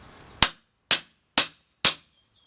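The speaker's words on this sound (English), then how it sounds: "I loosen it up a bit with the prybar just to get a gap" Four sharp, loud cracks of a nailed pallet board being levered loose with a prybar, evenly spaced about half a second apart, each a bright snapping burst that dies away quickly, with silence between.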